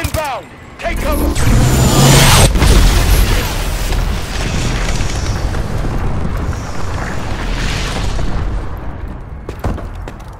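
Bombing run in Call of Duty Advanced Warfare: loud, sustained rumbling explosions and booming blasts with mechanical clatter, continuing for several seconds before tapering off, with game voice lines mixed in.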